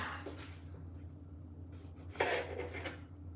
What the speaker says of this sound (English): I'm running out of knives, so I'm using a bread knife right now.